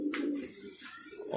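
Rampuri pigeon cooing, a steady low murmuring coo held through the whole stretch, close and moderately loud with no talk over it.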